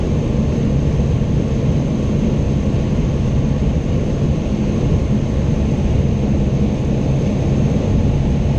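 Piper Cherokee light aircraft engine droning steadily through a touch and go, a loud, continuous broadband roar that holds even in level from start to finish with no voices.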